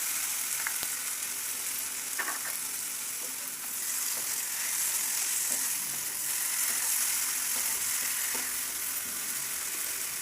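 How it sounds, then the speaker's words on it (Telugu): Chopped tomatoes fry and sizzle in a pan for chole masala, a steady dense hiss with occasional soft stirring scrapes, close and continuous with no talking. "ఇప్పుడు చక్కగా తరిగి పెట్టుకున్న టమాటో ముక్కల్ని కూడా వేసి కలుపుకుందాం."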